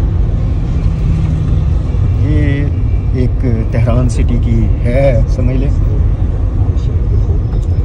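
Heavy road traffic in Tehran city, a constant loud low rumble of car and bus engines, with someone talking over it.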